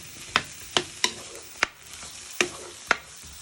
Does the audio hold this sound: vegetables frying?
yes